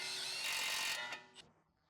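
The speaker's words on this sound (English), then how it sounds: "Use a 21mm socket to remove the tie rod nut." Power tool driving a 21mm socket to remove a tie rod nut on a Ford Explorer, a loud, steady, close whirring spin for about a second that cuts off with a brief rattle.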